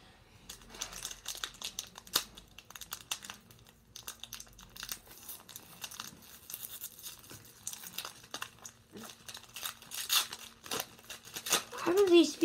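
Crinkling and tearing of a plastic Pokémon Sun and Moon Ultra Prism card pack being opened, a steady run of close crackles and rips with people talking over it.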